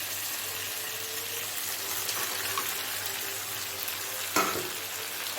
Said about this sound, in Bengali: এখনও এটাকে আমি বেশ কিছুক্ষণ কষিয়ে নেব।